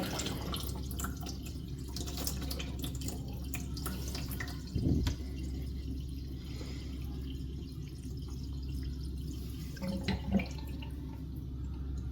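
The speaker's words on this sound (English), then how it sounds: "take off this drain cap again. Let that drain out." Water drains steadily from an ice maker's drain opening with the cap removed, a continuous low trickle with a couple of brief louder splashes, close and alone.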